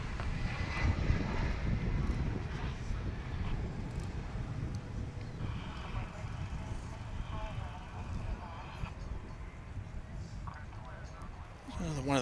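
A passenger jet, an Embraer 175, lands at Dallas/Fort Worth Airport with a low, fairly faint engine rumble that holds steady and fades, while people talk nearby.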